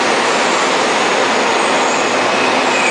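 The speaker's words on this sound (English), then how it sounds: "Here's a real old outer circle green line train." Old outer circle green line subway train on the Seoul metro at Konkuk University station platform, a loud continuous broadband roar of rolling wheels and motors that stays steady and close, with no voices.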